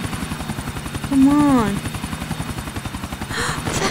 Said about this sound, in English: Do not destroy the helicopter, please.